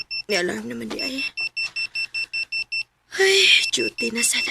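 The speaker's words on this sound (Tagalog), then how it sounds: "May alarm naman di ay." An electronic alarm beeps in a rapid steady series of short repeated pulses after a voice speaks. After a brief gap, louder speech and noise return over more beeping.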